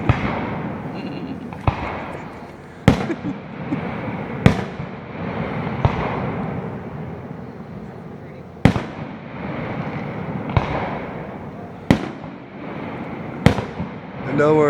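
Fireworks bursting high up in the mountains at a family gathering in Lonaconing, Maryland: a string of sharp, loud bangs at irregular intervals echoing over a dense rumbling backdrop of more distant explosions.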